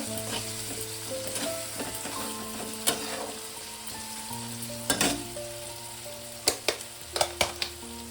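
Chopped tomatoes stirred and fried in a pan for a fig and prawn curry, with a loud constant sizzle, scrapes of the spoon, and several sharp clacks against the pan toward the end.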